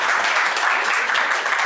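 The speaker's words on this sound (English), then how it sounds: "And I always get a round of applause for it too." An audience at a WHO tuberculosis research centre launch gives a round of applause, a dense, steady patter of many hands clapping throughout.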